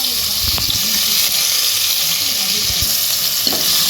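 Oil heats and sizzles steadily in a pan for egg curry, a loud continuous frying hiss with a few faint knocks and clinks underneath.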